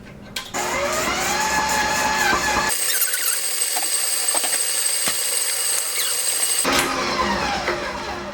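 New stand mixer creaming coffee cake cookie dough, a loud continuous motor whine with high squealing tones that shifts pitch partway through and holds steady for several seconds.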